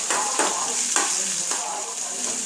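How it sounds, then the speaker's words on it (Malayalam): Chopped onion frying with mustard seeds in a pan, a steady close sizzle with a few scraping stirs of a spoon roughly every half second, no voices. "സ്വല്പം സവാള അരിഞ്ഞ വിട്ടതിന് ശേഷം സ്പൂൺ കൊണ്ടൊന്ന് ഇളക്കുവാണ്."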